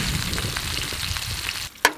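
Crayfish lightly dusted with garlic sizzling steadily on a cooker, a close, dense frying hiss that drops off near the end before a brief clatter.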